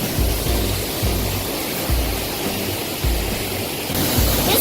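White Oak Canyon waterfall in Shenandoah National Park roars steadily up close, a dense broadband rush with deep low rumbling pulses throughout.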